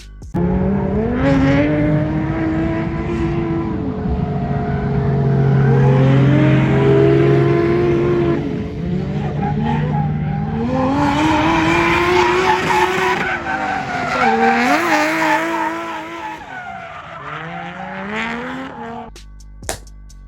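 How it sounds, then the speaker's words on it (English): A Toyota JZX81 Mark II with a 1JZ VVT-i engine and a 6 Boost manifold revs loud and close, rising and falling with hard acceleration, and long squealing tire skids run through the whole stretch before it cuts off sharply at the end. "here's a video clip of what my Vvti sounded like when it had the 6 boost manifold"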